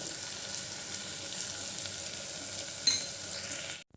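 Ginger garlic paste fries with onions and spices in a pan, hissing in a steady close sizzle with a single sharp clink near the end before the sound cuts off.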